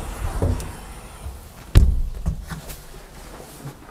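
A boat's glass bow hatch on gas-shock struts swings open with a single thunk partway through, followed by softer knocks and handling noise, close by with no talk.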